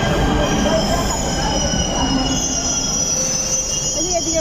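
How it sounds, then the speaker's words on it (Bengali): A train in Delhi runs with its wheels squealing: a loud, continuous metallic screech over a heavy rolling rumble that lasts the whole stretch without a break. "তো এখন ট্রেনে উঠে যাবো"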